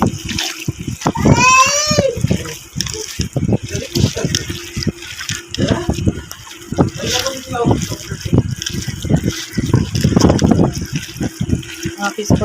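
Tripe (ojri) being kneaded and washed by hand in water in a home kitchen, giving sloshing, squelching splashes that come and go, with brief voices in the background.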